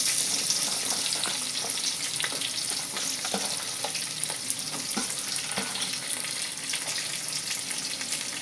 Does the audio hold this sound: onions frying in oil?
yes